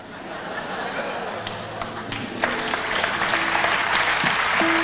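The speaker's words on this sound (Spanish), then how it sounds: "Pero no aplaudan tanto que ustedes tienen otra pendencia." Theater audience applause at a folk concert in Teatro California, dense clapping that swells louder partway through, with some laughter and voices mixed in.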